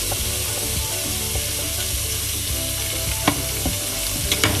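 Onion and pumpkin frying in a pan for pumpkin risotto give off a steady, close sizzle that holds through the clip, with a few light clicks and scrapes from stirring near the end.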